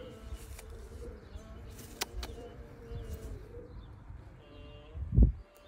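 Oman Hatem Teddy pigeons coo softly in a loft, with low murmuring calls and occasional chirps amid background bird chatter, ending with a closer, louder rustle or bump.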